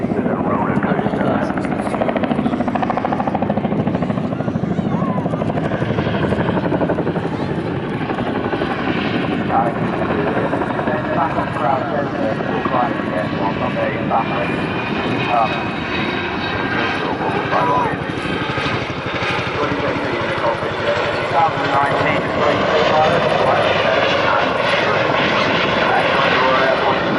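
A propeller aircraft performs aerobatics, including a roller coaster manoeuvre, at the Weston Super Mare air show, its engine droning loudly and continuously with rising and falling pitch as it climbs and turns, while an announcer talks over the top.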